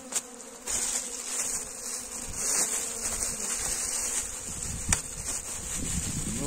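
Honeybees buzzing at a hive in early spring, a steady close drone of many wings holding throughout, with a few faint knocks and rustles at the hive.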